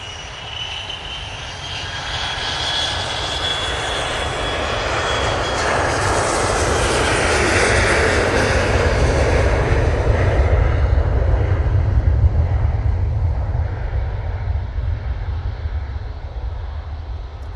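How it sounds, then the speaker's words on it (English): A Bombardier Challenger business jet takes off from Manchester Airport, its engines roaring loud and steady throughout, the rumble swelling to a peak midway and then easing slightly as it climbs away. "They're off to Malaga using that Bombardier Challenger. Absolutely sending it."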